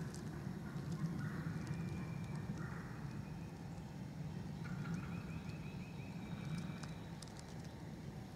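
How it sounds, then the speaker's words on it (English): Outdoors in spring woods, a wild turkey hen gives faint, high-pitched yelps in a few short bursts, distant and soft beneath a steady rush of ambient noise. "Hear that little high-pitched hen yelp there."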